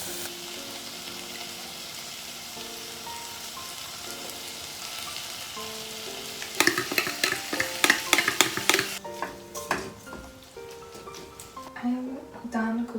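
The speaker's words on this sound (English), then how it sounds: "I'm done cooking the herring and onion, not herring, sardines and onion." Sardines and onion fry in a pan with a continuous low sizzle, then a burst of close, clattering stirring strokes joins in partway through and continues to the end.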